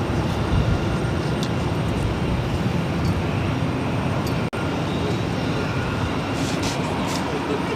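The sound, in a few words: United Airlines Boeing 737-800 taking off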